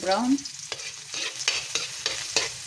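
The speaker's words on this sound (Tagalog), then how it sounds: "inuuna ko yung ahos kasi gusto ko yung ahos ay nagka-brown" Garlic sautés in a pan for ginataang monggo: a brief hiss, then a series of sharp, rhythmic scrapes of a utensil stirring through the sizzling oil, close up, with no voices.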